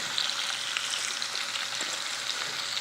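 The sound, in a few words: onion sizzling as it is added to browning potatoes in a pan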